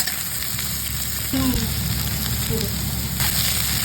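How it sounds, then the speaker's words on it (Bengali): Diced ridge gourd fries in spiced oil with ginger paste, a dense, even sizzle filling the clip, close and steady, with a couple of faint tonal clinks partway through and no talk. "ডুমো করে কেটে রাখা ঝিঙেগুলো ভালো করে নেড়ে চেড়ে নেব।"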